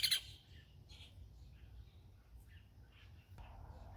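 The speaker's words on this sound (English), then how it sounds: "have a little bit less bird noise in the background" Faint bird chirps and tweets sound intermittently in the background of a quiet outdoor setting, with one sharper call at the start.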